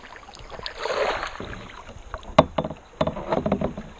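Paddle strokes from a kayak on a calm sea off Koh Kood, Thailand, make near, irregular watery splashes and drips over a light wind hiss.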